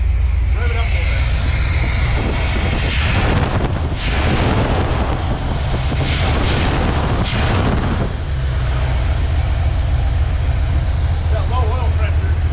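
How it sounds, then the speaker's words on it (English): A Dodge W100 truck engine runs loud and close with a deep steady rumble, surging in hard revs around the middle of the clip and settling back to idle, with people talking nearby. "Rev it up a little bit."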